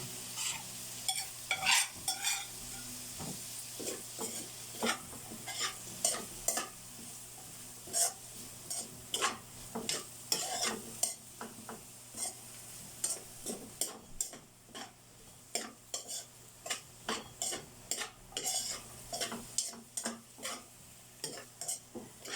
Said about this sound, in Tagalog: lutuin muna natin maigi yung ano, yung kikiam.